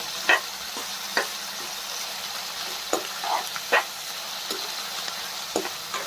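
Onions and curry leaves sizzle steadily in hot oil in a pan while a spoon stirs them, giving sharp scraping clacks at irregular intervals over the constant frying hiss.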